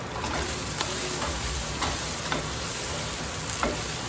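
Chile verde meat, tender and shrunken, being stirred with added salt in a hot pan, a steady sizzle with scattered scraping clicks of the utensil, close and continuous with no talk.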